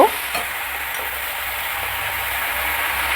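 Garlic paste fries and is stirred in a pan with soya chunks for chili soybean, a steady close sizzle with soft scraping running throughout, no talking.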